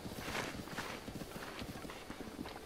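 Rapid clip-clop of a horse running in Zelda: Breath of the Wild, steady hoofbeats close and fairly loud, alone without talk.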